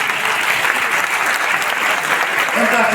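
A large audience in a hall applauds loudly and continuously, a thick, even roar of clapping with no pauses.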